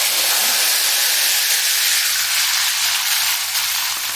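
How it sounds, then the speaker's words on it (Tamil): Mustard seeds and chillies fry in hot oil in a kadai for prawn pickle, making a loud, continuous, close-up hiss and sizzle that fills the whole stretch without any voices. "கடுகு பொரிஞ்சிருச்சு"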